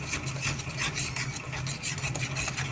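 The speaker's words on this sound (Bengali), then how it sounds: "তো এটা দেওয়ার পর একটু ভালো করে নাড়তে হবে, যেহেতু সব কাঁচা মশলা আছে।" Fish coated in a raw spice paste is turned in a pan with rhythmic, close scraping strokes of a utensil over a faint low sizzle.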